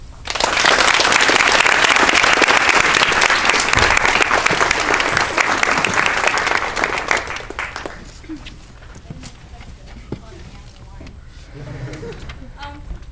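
Loud, dense audience applause at a 2009 showcase fills the hall for about eight seconds, welcoming a performer, then thins out into scattered claps and quiet room murmur.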